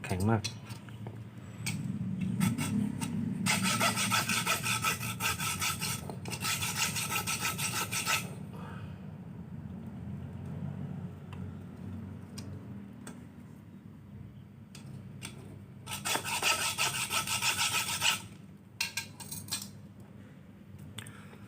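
A saw cuts through a hard Kuman Thong figurine in rasping bursts of rapid strokes, close and gritty. A long pause separates the bursts, and quiet talk and handling noises run in between.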